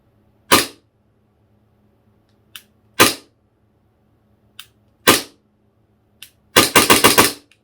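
Army Custom 4.3 Hi-Capa airsoft gas pistol fired with gas but no BBs, sharp close snaps of the slide cycling singly at intervals, then a quick rapid string of shots, with faint clicks of the trigger between them in an otherwise quiet room.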